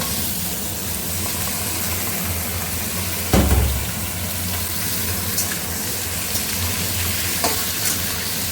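Hill rooster meat going into a pan of fried onions in a home kitchen, a loud steady sizzle throughout with a brief clatter partway, close and continuous, no voices.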